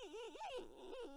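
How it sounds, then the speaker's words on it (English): A dog gives a drawn-out, wavering whine, rising and falling in pitch over about a second, close and fairly clear with no talk. "This dog's too cute."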